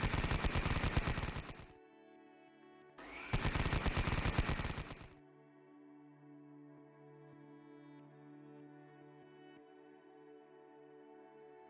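Two loud bursts of rapid autocannon and heavy machine gun fire in a Konflikt '47 tabletop battle, each lasting about two seconds with a short gap between, followed by a steady droning background hum.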